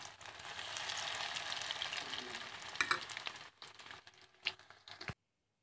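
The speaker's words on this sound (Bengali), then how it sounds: "বাকিগুলো আমি এরকম করে ভেজে নেব। আবারও একটা একটা করে দিয়ে দিলাম।" Dal bora lentil fritters fry in hot oil with a continuous dense crackle. A louder burst comes as more are dropped in, and the bubbling eases before stopping abruptly.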